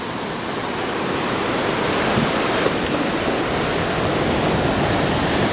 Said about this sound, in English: That's it, Indian Springs Creek confluence with the Pitt River.